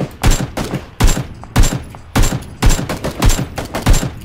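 Repeated bursts of gunfire in the battle royale video game PlayerUnknown's Battlegrounds, loud, close shots arriving in a steady rhythm of about two per second with no talk over them.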